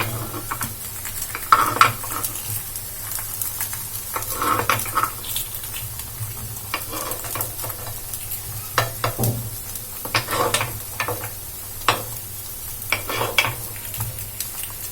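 Bread kuzhi paniyaram frying in the wells of a paniyaram pan, giving a steady close sizzle with occasional scraping and turning clicks as pieces are flipped, with no talking.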